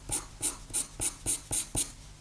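Pastel pencil or charcoal strokes drawing black fur, seven quick scratchy rhythmic scrapes in a steady pattern, close and fairly loud with no talking.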